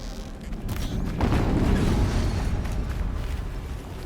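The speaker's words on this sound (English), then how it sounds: "An explosion." A deep, rumbling explosion in the action RPG Horizon Zero Dawn, swelling into a heavy sustained roar after a brief quieter lead-in, loud and with no talk over it.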